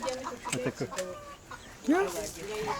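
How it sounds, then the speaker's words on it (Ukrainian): Small chickens cluck and murmur nearby in a busy, uneven chatter in a botanical garden on Mahé, Seychelles, with a few louder calls rising above the flock. "маленькі кури, несуть маленькі яйця"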